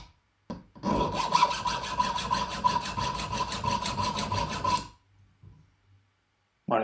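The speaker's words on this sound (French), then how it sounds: "j'essaye de compter le nombre de coups de lime" Steady back-and-forth file strokes rasp against a VG10 67-layer steel utility knife blade, a close, loud run of even strokes for about four seconds, then a brief quieter scrape and silence.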